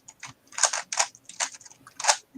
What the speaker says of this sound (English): Dude, that is the sound of a Rubik's Cube.